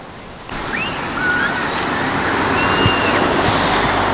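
Waves washing ashore in a sandy bay on Maine's Mount Desert Island, a steady broadband surf wash mixed with wind noise, with faint bird calls above it and no talking.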